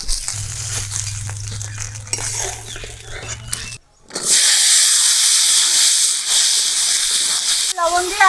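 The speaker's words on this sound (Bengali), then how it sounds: "লবণ দিয়ে আলুটা ভেজে নিচ্ছি।" Potatoes fry with salt in hot oil during a village cooking session, starting with a few clinks of pots and utensils before a loud, dense hiss of frying that holds steady to the end.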